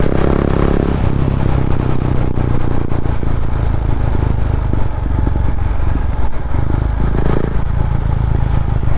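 A Husqvarna Vitpilen 701 motorcycle rumbles loud and continuous while being ridden, its steady engine drone blending with wind noise throughout.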